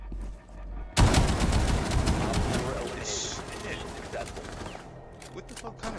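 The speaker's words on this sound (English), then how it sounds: "Shotgun with an AK." A close shotgun blast from the Rainbow Six Siege shooter bursts in abruptly after a quiet start, followed by a long rumbling, crackling tail of gunfire and game noise, with a voice talking underneath.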